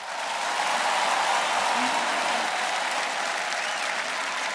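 A church congregation applauds, a dense, sustained wash of clapping from many hands that stays loud and even throughout.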